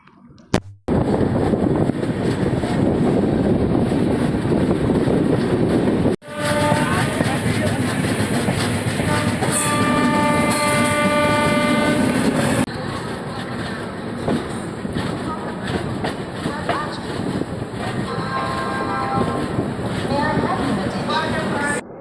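Bihar Sampark Kranti passenger train rolling into Lucknow's Aishbagh railway station, a loud steady rumble with clickety-clack, a sharp break partway and a whining tone, while someone speaks over it.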